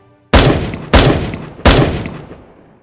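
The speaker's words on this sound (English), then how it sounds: "And then we heard gunshots." Three loud, sharp gunshots spaced under a second apart, each followed by a long fading echo.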